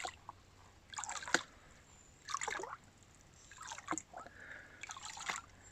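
Water spilling from a gold pan, several short gentle trickles and splashes in separate bursts with quiet gaps between, close and soft.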